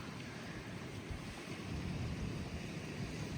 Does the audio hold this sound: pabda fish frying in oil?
no